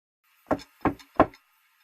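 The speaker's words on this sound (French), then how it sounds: "Mais qui c'est qui peut bien frapper à la porte à une heure pareille?" Three firm knocks on a door in slow, even succession, close and clear against an otherwise silent background.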